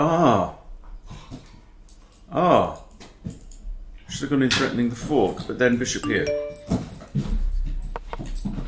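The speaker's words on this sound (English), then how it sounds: "Sorry, the dogs are full of energy." Energetic house dogs whimper and let out short yips in bursts during an online chess game, mixed with a man's speech and some clicking, fairly close but partly under the talk.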